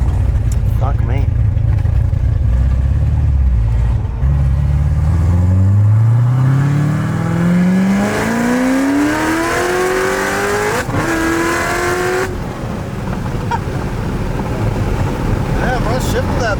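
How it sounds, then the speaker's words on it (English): An 850-horsepower Corvette Z06 engine revs hard, climbing steadily in pitch over several seconds toward the limiter, then dropping at a shift before pulling again. It is very loud and close, with wind rush throughout. "I can rev it up from third to fourth, not second to third, or? You can do everything."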